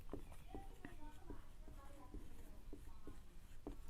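Chalk or marker writing on a board during a physics lesson, with faint intermittent taps and scratches of strokes under steady talking.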